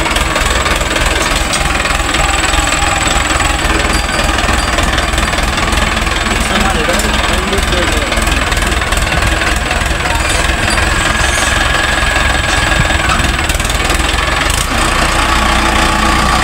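A Mahindra Arjun 555 tractor engine runs loud and close in muddy sugarcane-season fields, a constant heavy diesel chug and knock that never lets up.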